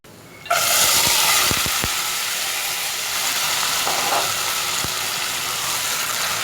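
Black chickpeas frying over a high flame in oil with golden-brown onions, a loud steady sizzle that bursts in as they hit the pan, with a few sharp clatters from stirring.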